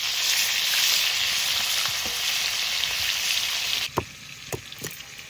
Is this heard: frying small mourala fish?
yes